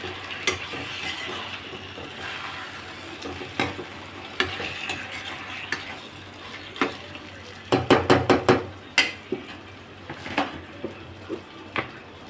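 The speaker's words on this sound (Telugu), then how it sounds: "ఇప్పుడు అందులో చికెన్ వేస్తున్నాను చికెన్ వేసి మిక్స్ చేసుకుందాం" Chicken tipped into a Telugu-style chicken and drumstick-vegetable curry sizzles steadily in the pan while a spatula scrapes and stirs it, with a quick cluster of clinking strokes midway and scattered knocks against the metal.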